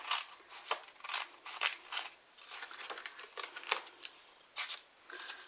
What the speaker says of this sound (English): I'm going to cut right across there, get rid of that piece.